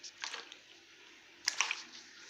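Turnips lifted from their overnight soaking water ahead of pickling, giving soft wet squishes and drips, one brief splash early and a louder cluster of sloshing handling midway, with a quiet background between.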